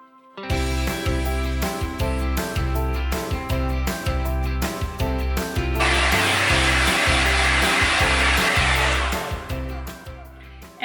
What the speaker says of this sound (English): I pull it forward and blow dry it so that I'm not putting a hot flat iron onto damp hair at all